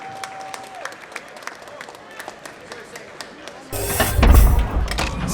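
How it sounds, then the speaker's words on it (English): Robot combat event audience applauding a competing crew, scattered claps over arena murmur, then a louder rumbling burst of crowd noise and thumps in the latter part. "Guys, give them a round of applause"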